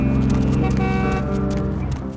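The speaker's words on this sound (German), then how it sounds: "hier hupt ein Auto, obwohl du nirgends mit Auto fahren siehst." A car horn honking in Vampire: The Masquerade - Bloodlines (2004), a loud, sustained tonal blare lasting about two seconds with a slight fade, heard alone.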